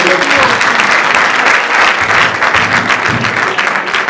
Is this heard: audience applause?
yes